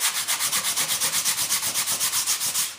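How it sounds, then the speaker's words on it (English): Hand sanding along the fiberglass edges of a flat board for a large F-18 turbine jet model produces a close, steady rasp in regular back-and-forth strokes, roughly six per second, with no talking. "We got to sand these edges because they have not been peel plied."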